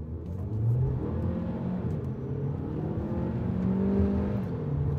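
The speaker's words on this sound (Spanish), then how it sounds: "A ver, hacemos un launch control, si se puede." An OMODA 5 car launching hard under launch control, its engine rumbling and rising in pitch as it accelerates, heard steadily from inside or close by with no talk.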